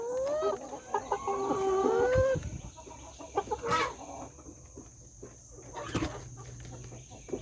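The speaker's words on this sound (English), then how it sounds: "So what do you do when there's a chicken in the nest?" A hen sitting in a nest gives soft, rhythmic clucks and a few rising squawks early on, then quieter scattered calls and rustling amid low background noise, with no talking.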